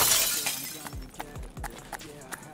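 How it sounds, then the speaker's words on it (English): Window glass shatters in the video game Escape From Tarkov, a loud crash at the start followed by scattered tinkling fragments and a few sharp knocks as it fades. "of course no one smashed out the window"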